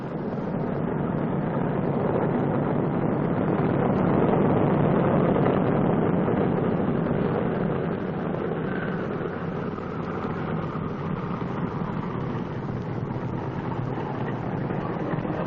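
Piston engines of a Boeing B-29 Superfortress drone loudly and continuously as the heavy bomber taxis on a runway, a dense steady roar with no talking.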